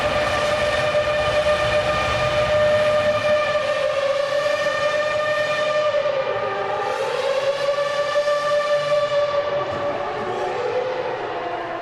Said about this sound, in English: That sounds like an air raid siren with all the echo as it bounces off the walls of Wembley here